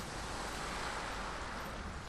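Video game ocean waves with foam, a continuous broadband wash of surf and spray, loud and unbroken across the short stretch.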